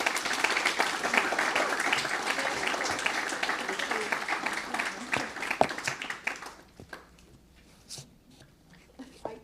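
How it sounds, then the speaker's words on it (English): Applause from a crowd at a community board meeting in Brooklyn, a dense steady patter of many hands that thins after several seconds into scattered claps and quiet room noise. "Please let's give her another round of applause"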